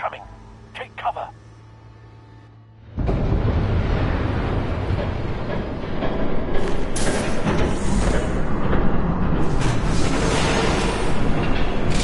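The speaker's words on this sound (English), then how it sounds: "There's a train coming." A train rumbles past in Batman: The Telltale Series, a loud, steady roar that builds after a short quiet stretch and holds through to the end.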